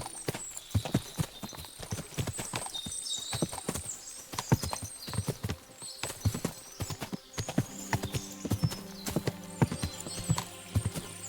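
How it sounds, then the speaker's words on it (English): Horses walking and neighing in the video game Kingdom Come: Deliverance 2, with many close hoof clip-clops in irregular rhythm, occasional whinnies and background music throughout. "What a lot of horses!"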